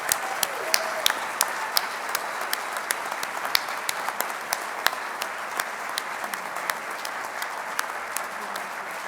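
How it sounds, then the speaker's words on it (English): An audience at the 2021 Tennessee Aviation Hall of Fame induction gives sustained, even applause, a dense wash of many hands clapping that stays steady for the whole stretch. "Ladies and gentlemen, big applause."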